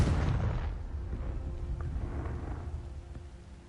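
A Confringo fire spell detonates in the video game Hogwarts Legacy, landing as one loud, close boom whose deep rumble rolls on and fades over a few seconds, with no talk over it.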